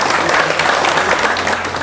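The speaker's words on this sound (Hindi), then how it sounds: "जोरदार तालियां, जोरदार तालियां" Loud, dense applause from an audience at a one-day leadership development training programme, sustained and steady for its whole length with no pauses.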